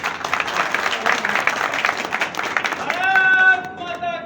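Crowd applause and clapping at an outdoor BJP political rally in a village, dense and steady for about three seconds, then giving way to a loud tonal sound that may be music or amplified voices.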